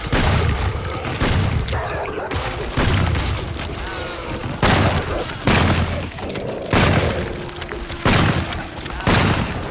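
Repeated heavy booming shots rip out in a rough rhythm, loud and close, with a dense rumbling din carrying on between the blasts.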